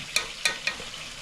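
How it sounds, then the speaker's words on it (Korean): Food deep-frying in boiling oil, bubbling evenly all around the pot, with three sharp crackling spits standing out over a soft steady sizzle. "360도 어느 곳이나 똑같이 기름이 이렇게 끓고 있습니다"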